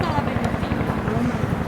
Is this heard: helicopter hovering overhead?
yes